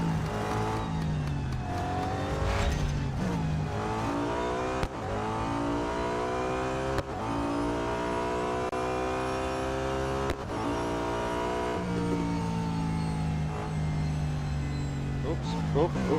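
Race car engine in Real Racing 3 held near its top speed of about 165 mph, a loud, sustained high-pitched whine with steady harmonics and a few brief dips at gear shifts, with someone talking over it.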